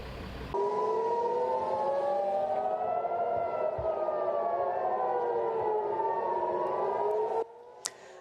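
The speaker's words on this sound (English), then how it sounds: "You're now hearing the moment warning sirens sounded in Israel's capital of Tel Aviv earlier today" Two air raid warning sirens in Tel Aviv, Israel, wail and rise and fall together, their pitches crossing back and forth, loud and steady for several seconds before cutting off abruptly, followed by a brief click.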